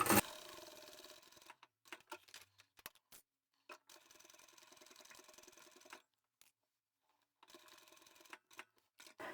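A sewing machine stitches fabric in short runs with stops between them while backstitching a lipstick holder. Its whirring bursts are close and fairly quiet, broken by silent gaps, with no voices.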